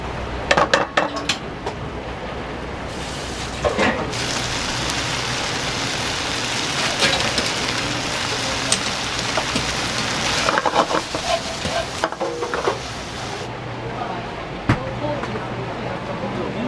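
Smelt, yellow chives and matsutake are stir-fried in a wok in a busy Japanese diner kitchen, giving a continuous loud sizzle broken by clanks of metal on metal. Voices can be heard faintly in the background.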